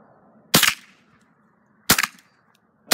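Real firearm shots at an outdoor target range, two sharp, loud reports about 1.4 seconds apart with a third starting at the end, separated by quiet ambient background.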